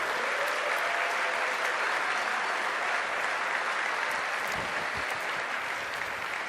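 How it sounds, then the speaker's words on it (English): A room full of people at a pro soccer league draft event gives sustained applause, a dense, even clatter of clapping heard at moderate distance without speech. "give our coaches and technical directors a big round of applause"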